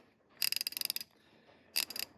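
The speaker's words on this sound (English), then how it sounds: "Not a bad little ratchet." Astro Tools 1/2-inch ratchet in a 3/8-inch body clicking close up: a fast run of sharp metallic clicks for about half a second, a pause, then a second shorter burst.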